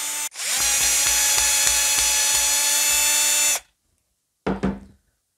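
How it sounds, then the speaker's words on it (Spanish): A power drill or screwdriver whirs steadily for about three seconds while unscrewing wooden boards, then stops; a brief second burst follows after a pause, close and loud with no talk. "vamos a desatornillar a estas maderas para que para poder verlas"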